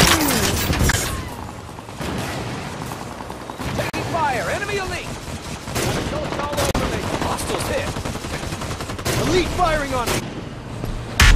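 Rapid gunfire bursts from the video game Halo 5: Guardians in Expert Mode, volleys crackling over a dense battle mix with voice callouts, loud and sustained across the fight.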